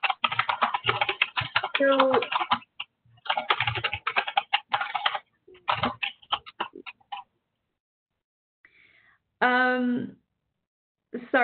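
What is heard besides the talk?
typing on a computer keyboard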